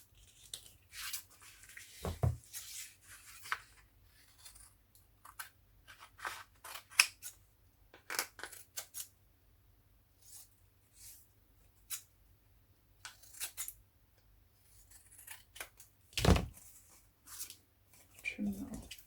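Paper being trimmed with scissors while making junk journal tags and collage cards, a series of soft, close snips and cuts in irregular bursts, with a couple of louder thuds and quiet pauses between.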